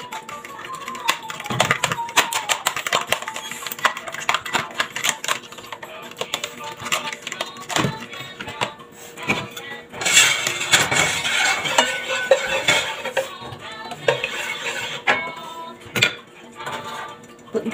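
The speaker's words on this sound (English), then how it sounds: "Beat lang muna natin yung egg." Eggs for scrambled eggs with spinach are beaten in a bowl, giving a steady, fast run of clicking and scraping taps close up that grows busier partway through.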